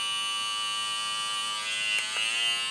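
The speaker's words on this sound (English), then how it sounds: "Press it again, it revs up a little bit, it powers up a little bit and turns blue" Suprent Storm Gray cordless hair trimmer running steadily with a high, tonal electric buzz, close and alone, with a small shift in pitch as it revs up near the end.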